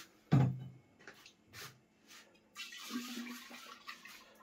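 Liquid, a macerate for spirit from a Luxstahl 8M still, is poured out with a short splash followed by a faint, uneven trickling gurgle in a quiet room.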